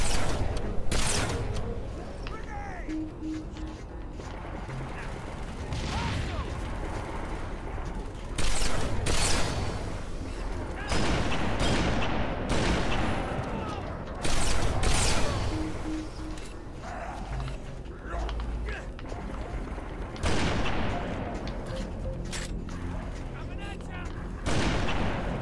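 Sniper rifle and other gunfire in Halo 3, loud repeated sharp shots and booms scattered irregularly through a noisy battle, with a voice talking over them.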